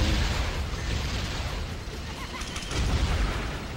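Power missile blasts in Twisted Metal vehicular combat, a dense, continuous barrage of booming explosions and crackling debris that swells louder near the end, with no pause between hits.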